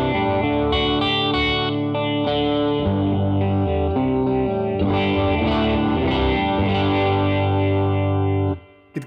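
Electric guitar rhythm chords played through an MXR Phase 90 phaser pedal, a loud sustained growly sweeping tone changing chords every few seconds, ringing until a sudden stop at the end.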